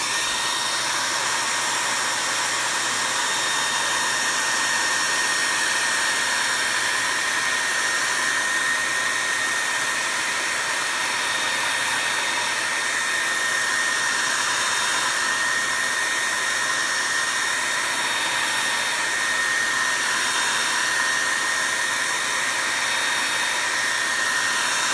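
A heat tool blows steadily to heat-set chalk paste ink, a loud, constant close whooshing hum lasting throughout with no pauses and no talking.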